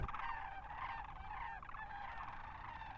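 Sandhill cranes give rolling, rattling bugle calls, many birds overlapping in a continuous chorus heard from a moderate distance.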